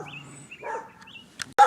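A guard dog on a walk to a village market gives a short bark near the end, after a quiet stretch of soft whines and tonal yips, fairly close and without talk over it.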